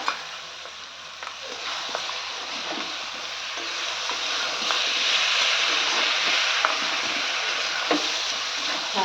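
Ginger paste and chopped tomato frying in a home kitchen pan, giving a steady, close sizzle with soft stirring scrapes and small crackles running throughout.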